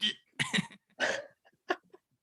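Several coughs and throaty hacks in uneven bursts, close and fairly loud, separated by brief pauses.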